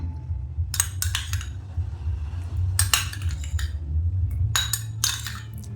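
A metal spoon stirring curd starter into warm milk in a bowl, several clusters of quick clinks and scrapes against the bowl's side separated by short pauses, over a low background hum.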